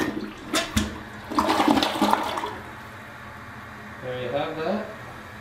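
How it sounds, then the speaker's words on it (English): A Costco WaterRidge dual-flush toilet is run on its small flush, giving a short whoosh of rushing water and gurgling refill, with someone talking before and around it. "So there's the little flush test here. I'm going to hit the, I guess first I hit the small one."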